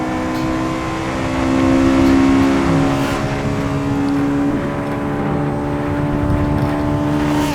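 A Honda City GM6 fitted with a K24 turbo engine races along an expressway in Assetto Corsa, its loud, steady engine drone shifting pitch through gear changes and throttle lifts, with no voices.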